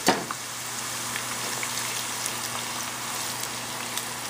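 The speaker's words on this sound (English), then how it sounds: "So we're gonna fry these up until they're really nice and golden brown" Onions frying in a pan: a steady, close crackling sizzle with small scattered pops, heard on its own without speech.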